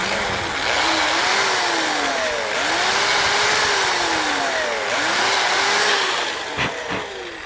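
A power drill bores a hinge hole in a wooden door, its motor whining steadily while the pitch rises and falls in several sweeping passes, loud and close, with no talking.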